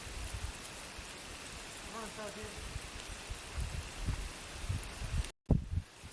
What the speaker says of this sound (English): there comes the rain.